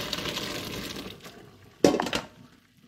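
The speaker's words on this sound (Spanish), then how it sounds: "Cuando nuestra pasta ya está cocinada, la colamos." Cooked pasta being drained into a colander in a home kitchen: a steady rush of pouring water for a couple of seconds, then a sharp metallic clatter and splash before it trails off.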